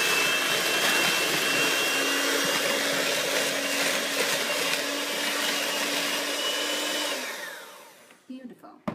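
An electric mixer whirs steadily as it blends cinnamon pound cake batter made with Greek yogurt. The loud, even hum runs for about seven seconds, then winds down and stops, followed by faint bowl clatter.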